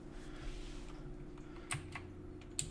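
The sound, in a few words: typing on a computer keyboard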